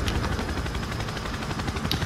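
Helicopter gunship rotor and gunfire from the chopper gunner killstreak in the Modern Warfare video game: a dense, steady roar of blades and rattling shots that continues for about two seconds without talk.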